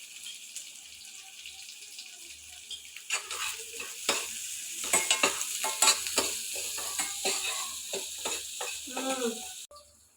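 Shallots, green chillies and curry leaves sauté in a pan, giving a steady close sizzle broken by a run of sharp spoon-against-pan scrapes and clacks that grow busier midway.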